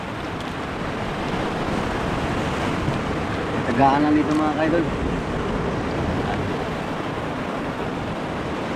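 Steady wash of choppy sea waves and wind noise rolls on throughout, while someone speaks briefly in Filipino over it midway.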